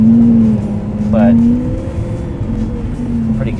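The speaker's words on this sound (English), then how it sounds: "It revs high. It sounds incredible." A Lamborghini Aventador's engine drones steadily from inside the cabin, pitch rising and falling slightly, with brief moments of voice over it.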